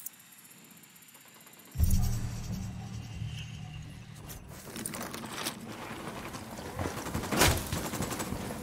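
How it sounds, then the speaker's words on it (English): Gunfire in Ghost Recon Wildlands breaks out after a quiet stretch, with loud rapid bursts, single sharp shots and clattering volleys continuing throughout. "Open fire."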